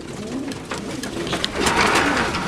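Racing homer pigeons coo softly nearby, low murmuring calls over a rustling background, growing a bit busier toward the end.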